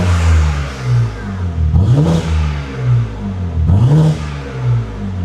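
A BMW G80 M3 fitted with a 4-inch modular midpipe, exhaust valves closed, revs twice sharply from a loud, close idle, each blip rising and falling before settling back to a steady rumble.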